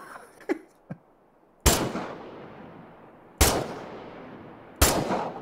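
AK rifle fire in the video game Miscreated: three loud, sharp single shots spaced over a few seconds, each trailing into a decaying echo, after a few faint clicks.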